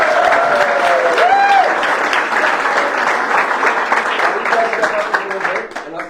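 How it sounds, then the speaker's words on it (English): Sustained applause from an audience at a council meeting honoring a youth team, dense clapping with voices and a few shouts mixed in, staying loud for several seconds before fading near the end. "So big round of applause for the Yukon Huskies."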